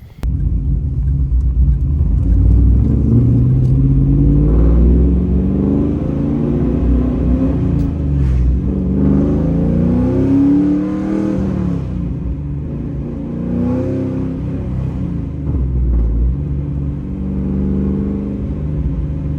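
A 2002 Pontiac Trans Am GMMG Blackbird convertible with a high-performance drivetrain and 4.30 rear gears gives a loud, deep engine rumble that climbs and falls as it revs and pulls, steady and close throughout with no talk.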